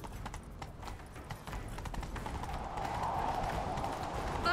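Galloping horses in The Witcher 3, rapid rhythmic hoofbeats drumming steadily throughout, moderately quiet and mixed with game ambience and a rising tonal sweep toward the end, no talk over it.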